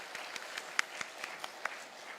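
Light applause from a church congregation thanking a pastor at a Sunday afternoon praise service, soft distant clapping with a few distinct claps standing out, fairly faint and without voices.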